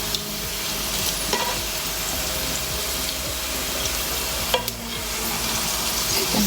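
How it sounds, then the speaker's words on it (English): Crispy potato slices fry in a pan with a steady, dense sizzle, with a couple of brief clinks, loud and close throughout. "Now I'm going to add these potatoes"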